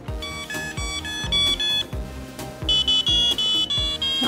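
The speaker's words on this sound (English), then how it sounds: "The buzzer, you could change the noise of the sound." A Microduino Itty Bitty Buggy programmable robot toy's buzzer plays a bright electronic beeping tune, short pitched notes in a quick repeating pattern over a thumping beat, close and clear.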